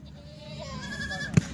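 Kathiawadi goats from a newly arrived truckload give a single short bleat at close range, standing out briefly over a low, steady background murmur.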